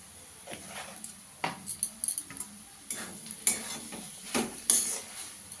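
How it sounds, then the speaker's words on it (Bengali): Ghee goes into a paneer and papaya curry in a pan, bringing a soft sizzle under repeated clinks and scrapes of a spoon stirring against the metal, close and moderately quiet. "একটু ঘি দিয়ে দেব।"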